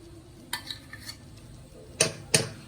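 Red velvet pancake batter is mixed with milk in a bowl. A few sharp utensil clinks and taps against the bowl stand out over quiet stirring, with no talking.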